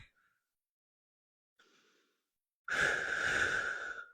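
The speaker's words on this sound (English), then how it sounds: "I like exhalations to be out of my mouth, especially during core." Exhalations through the mouth while holding a plank during a core workout, a faint short breath followed by a louder, longer close whooshing breath out.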